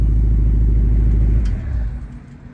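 A Ford Mustang Dark Horse fitted with a Corsa H-pipe exhaust idles with a loud, close, steady low rumble that drops off sharply partway through and settles into a softer, uneven burble.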